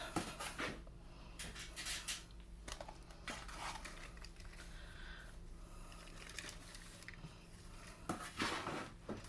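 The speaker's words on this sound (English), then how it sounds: "Almost done filling the tray." Soil scooped and pressed into a plastic seed starting tray: steady close rustling, scraping and crumbling with light knocks and clatters throughout, no speech.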